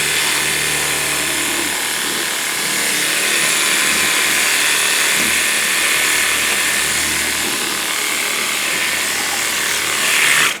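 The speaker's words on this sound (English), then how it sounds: "I can get back there on that firewall and shoot off grease and grime" A Worx Hydroshot compact pressure washer with a long wand and its nozzle set to 40 degrees blasts grease and grime off an engine bay firewall, producing a loud, continuous broadband hiss of spray with no pauses.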